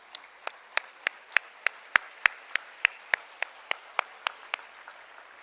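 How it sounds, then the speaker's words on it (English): A school audience of children at a student felicitation ceremony gives a round of applause, heard as a slow, steady series of distinct, fairly sparse claps roughly every third of a second, moderately loud in a reverberant hall. "round of applause."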